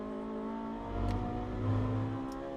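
A race car at Monza in a Trofeo Pirelli round rides over the curbs, its engine droning with a low rumbling judder swelling twice, heard at moderate distance without voices.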